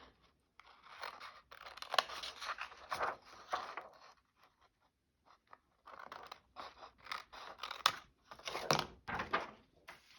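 Paper being snipped with scissors for a junk journal slide, bursts of close crisp cutting and rustling that pause briefly midway and then resume.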